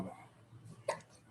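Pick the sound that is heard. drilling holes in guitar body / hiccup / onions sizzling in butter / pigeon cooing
hiccup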